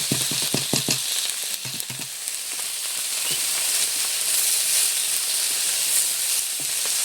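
Potatoes and eggs added to frying onion in a pan after fried shrimp, with a burst of clattering stirring strokes at first, then a steady close sizzle and hiss with occasional scrapes.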